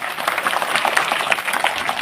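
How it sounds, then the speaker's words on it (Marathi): An audience at a school gathering gives the teachers loud, steady applause, with the clapping dense and continuous throughout. "एकदा जोरदार टाळ्या त्यांच्यासाठी वाजवा"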